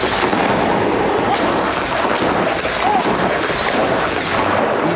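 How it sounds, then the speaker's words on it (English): Large 105mm howitzers fire shells into mountain slopes for avalanche control, a loud, sustained, rumbling roar of blast and echo that fills the whole stretch without pause. "The crew fire shells into slopes up to 3 miles away."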